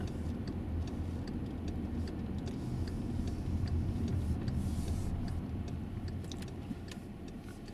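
Steady clicking of a car's turn-signal indicator inside a moving learner car during a driving mock test, faint ticks over a loud, constant engine and road rumble, with no talking.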